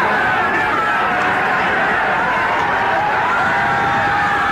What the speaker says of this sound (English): And here's a little bit of the crowd sound